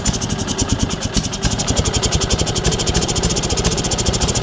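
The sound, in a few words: Sears SS16 snowblower engine running cold with choke stuck on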